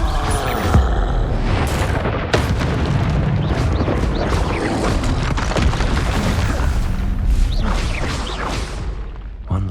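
A Confringo fire spell explodes during combat in a Hogwarts wizarding video game played on Xbox Series X, with loud booming blasts over a dense, continuous wash of battle noise for the whole stretch.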